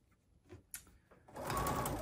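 A sewing machine stitches around a Poppins bag, starting after a few faint clicks and handling noises and then running as a steady, close mechanical whir.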